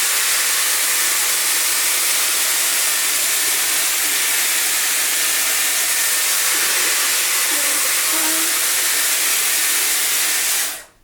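A Dyson Airwrap hair styler blows a steady, loud rushing hiss of air as it straightens dry hair, holding constant for about eleven seconds before cutting off abruptly at the end.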